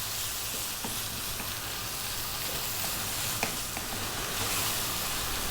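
Shrimp sizzle and fry in a hot pan for a Thai seafood curry, a steady dense hiss with occasional scraping taps from stirring, close and continuous with no talk.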